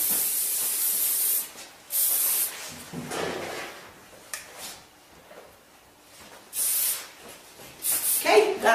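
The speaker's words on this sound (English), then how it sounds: "Then I always like to finish by spraying it." Hairspray from an aerosol can is misted over a finished curled formal updo in several loud hissing bursts, separated by quiet pauses.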